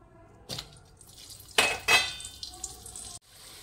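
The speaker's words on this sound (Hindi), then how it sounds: "बटर को डाल दिया था फिर मैंने प्याज को ऐड कर दिया है बटर में" Chopped onions added to butter and oil in a kadhai over a medium flame for street-style pav bhaji, with a light sizzle between several sharp clanks and stirring scrapes of a utensil against the pan.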